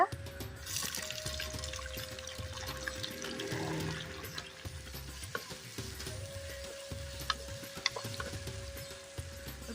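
Chopped onions frying in a pan with curry leaves while cooking a bitter gourd dish, a soft steady sizzle with scraping and stirring sounds under a faint background hum.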